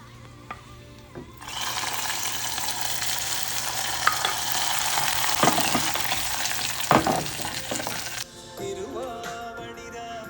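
Hot oil with dried red chillies and curry leaves tipped into a vellarikka pachadi curry for an Onam sadya, giving a loud, dense sizzle and crackle that bursts in at once, holds for several seconds, then cuts off sharply.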